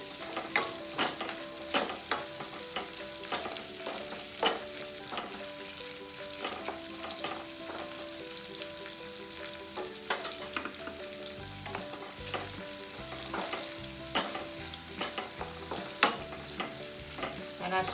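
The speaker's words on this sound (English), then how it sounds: "put the carrots and then the baby corns. Whatever requires long-term cooking needs to go first. So now let this cook on high flame." Carrots and baby corn stir-fry on a high flame, sizzling loudly and steadily with repeated scrapes and stirs of the pan throughout.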